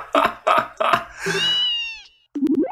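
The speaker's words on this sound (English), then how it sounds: "Oh, is it a cat? How's a cat in this box?" A cat meows from inside a box in Trails in the Sky the 3rd, giving three short close meows followed by a long drawn-out cry, then a brief muffled sound.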